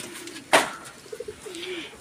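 Racing pigeons coo softly and briefly, with one sharp rustle or flutter early on, heard near and alone.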